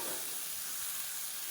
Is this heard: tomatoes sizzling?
yes